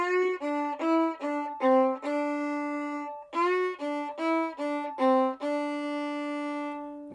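A solo fiddle plays one measure of the Highway 52 Rag twice, bowing short rhythmic notes that end in a held tone each time, clear and close with no talking.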